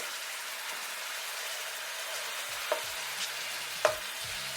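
Ground beef broken up from a tube and cooking in a pan for lasagna, giving a steady soft sizzle with a few sharp scraping clicks from a utensil.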